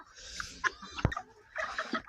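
A rooster clucks a few times at close range, short throaty calls with brief pauses, alongside a sharper squawk in the middle.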